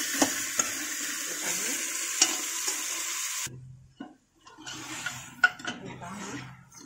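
Mutton rubbed with salt and turmeric sizzling loudly in a pan with steady frying hiss and occasional spoon scrapes, then a sudden drop to quieter stirring and clinks with a voice talking.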